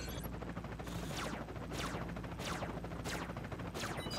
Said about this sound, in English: You guys find some cover till the shooting stops.